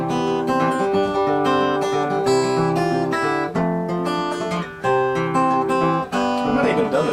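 Acoustic guitar plays the tune of Grandfather's Clock in a steady fingerpicked melody over bass notes, close and clear, with no talking, a short pause near the middle.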